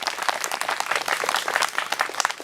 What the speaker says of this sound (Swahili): makofi kwake ya kutosha